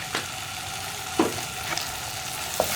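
Spice powders and a teaspoon of tomato sauce stirred in a hot pan, giving a low steady sizzle broken by a few sharp spoon taps and scrapes, close and without talk.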